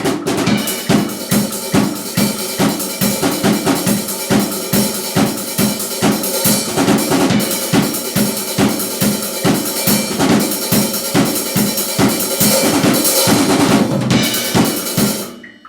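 A steady drum groove with busy sixteenth-note hi-hat over regular kick and snare hits, loud and continuous, no voices.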